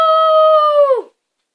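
A person imitates a wounded dog's howl, holding one loud, steady, sustained wail before it bends downward and cuts off, close and alone.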